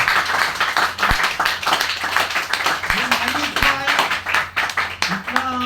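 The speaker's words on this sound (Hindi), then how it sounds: "इसके लिए जोरदार तालियां होना चाहिए" Audience clapping for a product launch at a marketing training event, steady mid-level applause throughout with people talking over it and occasional voiced calls.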